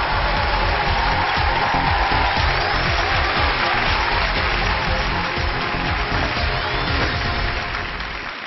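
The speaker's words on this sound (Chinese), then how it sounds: "来，掌声有请" A studio audience on a Chinese dating-dispute television show applauds steadily as a couple is welcomed in, a dense, continuous wash of clapping that softens slightly near the end.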